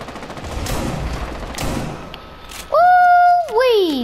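Long-range gunshots in a video game, a few sharp reports over background game noise, followed by a loud sustained tonal in-game sound near the end.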